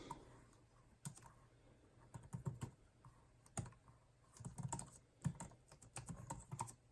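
Fingers tap out bursts of typing on a Brydge Pro keyboard for iPad Pro 11", quick clusters of soft clicks separated by short pauses, close by and fairly quiet.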